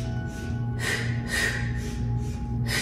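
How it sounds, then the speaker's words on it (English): Pilates breathing in a double pattern, two quick sniffing inhales and two puffed exhales repeating in a steady cycle, close and soft over a low background hum. "Now maybe we incorporate our Pilates double inhale, double exhale"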